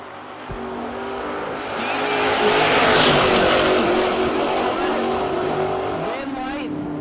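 Junior dragster race cars roar at a drag strip, engine noise swelling loudly over several seconds and holding steady, with an announcer talking over it.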